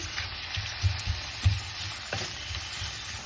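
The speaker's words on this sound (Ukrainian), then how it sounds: "до грибів додаємо олійку, нарізану кільцями цибулю помішуючи, смажимо до прозорості цибулі" Sliced onion rings and mushrooms frying in oil in a pan, giving a steady close sizzle broken by several soft thumps and scrapes from stirring.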